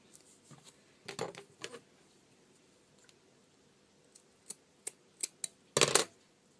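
Scissors snipping fabric to shape a small fabric flower: scattered short crisp snips, a couple of quick clusters early and a run of sharp single cuts near the end, close and fairly quiet.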